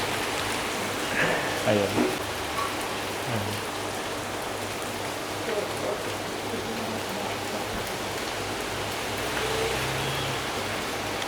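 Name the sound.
heavy rain falling in Omis, Croatia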